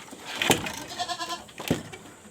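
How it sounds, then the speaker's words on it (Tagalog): Pregnant goats at feeding time bleat nearby, a few wavering cries over rustling and shuffling, with a sharp knock or two in between. "ang ating mga kambing na malapit ng mga anak"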